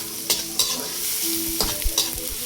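Tomatoes, garlic and onions sauté in a pan with a constant close sizzle, punctuated by several sharp scrapes and taps of a spatula as the mixture is stirred.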